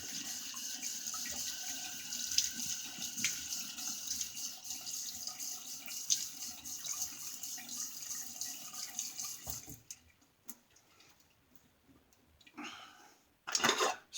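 A bathroom tap runs steadily as water is splashed on the face before a shave, a close, continuous gush that stops after about ten seconds, followed by quiet drips and a few brief splashes.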